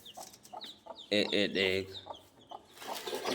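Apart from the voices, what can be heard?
hen with newly hatched chicks clucking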